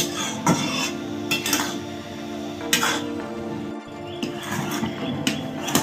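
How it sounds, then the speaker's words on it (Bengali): Mango pieces simmering in syrup in a pot for morabba are stirred gently, with intermittent metallic scrapes and clinks of a spoon against the pot at a slow, uneven pace, close by. "আস্তে আস্তে কিন্তু একবার করে নিচে এইভাবে নেড়ে দেবে।"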